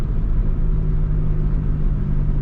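A Renault Clio 2 1.6 16v engine rumbles steadily at close range, a continuous low drone as the car accelerates, with no voices.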